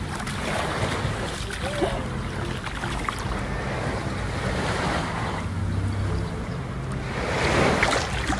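Sea waves wash and surge at a beach in Rayong, a continuous broadband rush with slow swells, mixed with wind buffeting the microphone and no clear voices.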